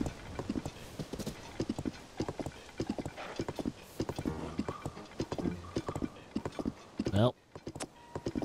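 Heavy hooves clip-clop in a rapid rhythm as Ganon's giant horse gallops in Zelda: Tears of the Kingdom, a loud burst of game sound near the end, with a person briefly speaking over it.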